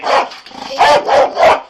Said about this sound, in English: We're going to send that dog in.